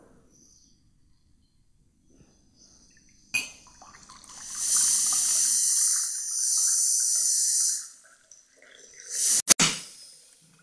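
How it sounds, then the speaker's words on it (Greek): Compressed air drives water through a countertop water purifier filter from a test bottle, producing a steady loud hiss of about three seconds, followed by gurgling sputters and a sharp burst near the end. "Με τη βοήθεια του συμπιεσμένου αέρα θα προσπαθήσουμε το νερό που είναι στη δοκιμαστική φιάλη να το περάσουμε μέσα από το φίλτρο."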